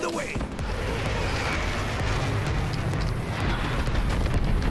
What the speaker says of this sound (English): Throwing my airstrike ahead.